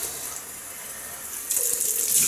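Cold tap water runs steadily for rinsing during a wet shave with a vintage razor, a close hiss that swells louder partway through as the flow strengthens.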